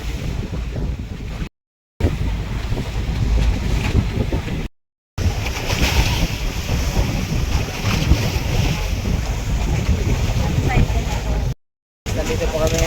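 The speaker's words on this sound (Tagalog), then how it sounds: "lalaki ng alon guys" A boat crossing big ocean waves at sea near Burias, with constant heavy wind buffeting and rushing water surf throughout, broken by a few brief dropouts.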